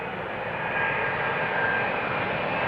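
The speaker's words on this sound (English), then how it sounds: "KLM Flight 604 returning from LAX 777-200 9 hours and 44 minutes underway." A KLM Boeing 777-200 airliner, flight 604 from LAX, roars steadily at Schiphol Airport, a broad, sustained engine rumble with no voices.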